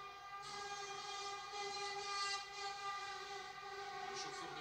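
Trains on a TV programme about railways play faintly in the background, a steady rumble of rolling stock with a long sustained horn-like tone throughout.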